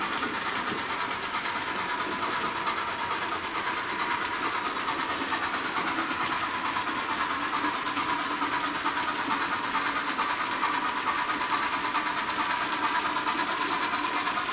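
A small two-axle diesel model train locomotive runs steadily on a layout, giving a continuous whirring, clattering hum at even loudness throughout, with no pauses.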